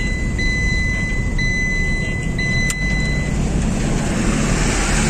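Steady road noise from inside a car driving on a busy highway at night, a constant low rumble and tire roar with a brief high whine over it.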